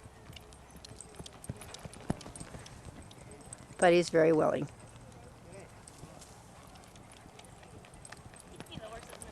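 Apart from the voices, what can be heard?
horse cantering on a lunge line, hooves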